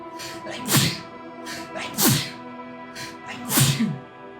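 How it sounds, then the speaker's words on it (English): A person sneezes three times in a row at roughly even intervals, each one sharp and close, with a steady background hum and faint game music underneath. "Gotta sneeze."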